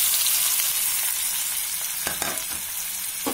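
Green chillies and onion pieces fry in a pan with a steady, close sizzle, broken by a few stirring scrapes toward the end, no voices.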